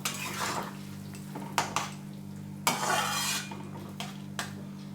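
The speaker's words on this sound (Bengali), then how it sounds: "এবার ভালো করে নেড়ে মিশিয়ে দেব" A spoon clatters and scrapes against a pan while bitter gourd and mourala fish chorchori is stirred and mixed, with several sharp knocks over a low steady hum.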